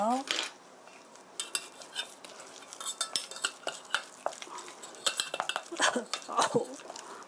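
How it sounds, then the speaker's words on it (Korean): Utensil clinking and scraping in a bowl while salt, half a teaspoon, and ground black pepper are mixed into food for beef chop steak, a run of close irregular taps and scrapes with faint voice sounds at the start. "잘 섞어주세요."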